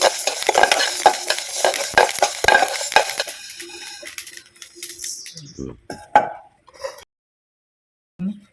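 Fenugreek seeds are dry roasted in a pan for sambar powder: rapid rattling, scraping stirs for several seconds, then sparser clinks and faint crackles, with a voice talking nearby.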